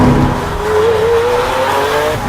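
Lamborghini Aventador Roadster LP700 on the road, a loud, close engine roar that holds steady with a gently rising pitch as it accelerates, heard alone without talk.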